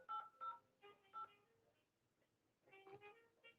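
Touch-tone keypad presses entering a phone number on a call to a mobile carrier's automated line: a string of short, steady DTMF beeps in quick succession, then a pause and another cluster, faint and close.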